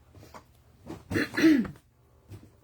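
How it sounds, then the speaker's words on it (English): A person clears their throat in one harsh, rasping burst, with quieter breathy sounds before and after. "it just feels like I got to clear my throat"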